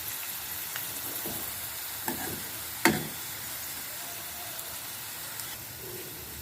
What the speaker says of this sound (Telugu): ఏగుతుంది, ఏగని కొంచెం వేగాలి,